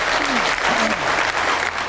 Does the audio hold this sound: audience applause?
yes